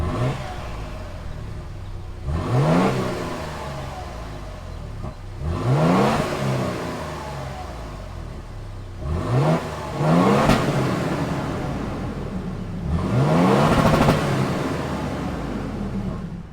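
A 2022 Toyota Tundra's 3.5-liter twin-turbo engine revs up four times in succession, each rise climbing in pitch then falling back to a steady idle, heard close and clear outdoors.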